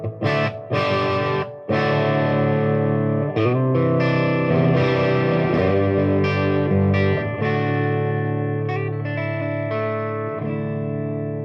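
Marshall Vintage Modern valve guitar amp with body turned down and treble up, played as a crunchy, overdriven electric guitar: sustained chords and riffs, loud and close, with a few brief gaps between phrases.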